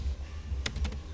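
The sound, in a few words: typing on a computer keyboard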